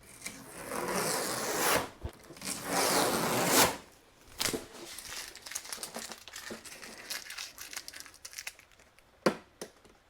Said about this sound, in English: I'm gonna take off the tape here